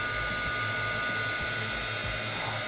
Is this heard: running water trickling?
no